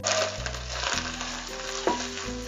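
Chickpeas with ginger-garlic paste sizzle and crackle steadily in a pan for chana pulao, a close frying hiss with occasional stirring under soft background music.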